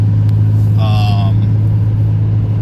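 A BMW E36 turbo cruises with a steady low engine drone and road rumble from inside the cabin, while a brief whine or chirp rises over it.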